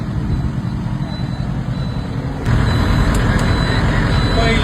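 A stranded family's vehicle, out of diesel at night on the road, is driven off toward safety, its engine a steady loud rumble that grows stronger midway as it pulls away, with faint brief chirps above.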